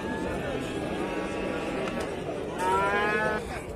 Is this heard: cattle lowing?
yes